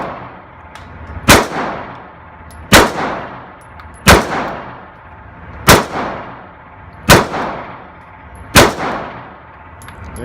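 Six evenly spaced 9mm shots from a Springfield Range Officer pistol fed from a Wilson Combat magazine, each a sharp, loud crack with a ringing decay, steady rhythm about every second and a half, outdoors on a range, no talk.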